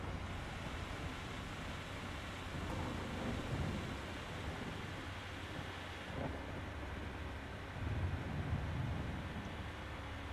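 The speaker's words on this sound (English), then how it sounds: "as I drive away and it starts to rain" Rain falls in a tornado-chasing video game, a faint, steady hiss of rainfall with a low rumble beneath, continuous and distant-sounding throughout with no talking.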